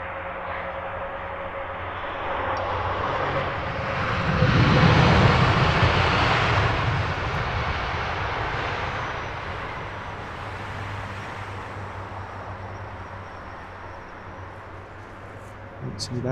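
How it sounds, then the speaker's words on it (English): A Boeing Dreamliner airliner lands at Heathrow Airport, heard as a broad, distant jet roar that swells to a peak and then slowly fades, with a faint voice talking underneath. "Heavy nose down from this latest Dreamliner arrival."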